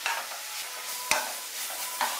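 Cauliflower and ginger paste stirred in a hot frying pan, a continuous bright sizzle with a few sharp spatula scrapes against the pan.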